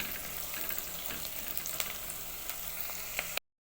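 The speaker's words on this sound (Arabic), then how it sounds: "وهنقلب في البصلة كده لغاية ما تاخد معانا لون حلو" Onions sizzle steadily in a pan, frying toward a deep colour for fish sayadieh rice, with faint scrapes and light taps from stirring over the constant crackle, close up, until the sound cuts off abruptly.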